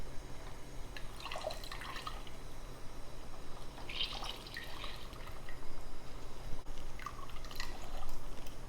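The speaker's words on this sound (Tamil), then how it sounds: "ஒரு லெமன் பிழிஞ்சு விட்டுடலாம்." Lemon juice squeezed into a pot of mutton biryani gives soft, faint drips and a light trickle over a low simmering background.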